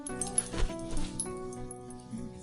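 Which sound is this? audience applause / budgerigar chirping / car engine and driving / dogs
dogs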